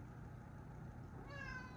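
A cat lets out a single short meow near the end, faint and close over low room noise.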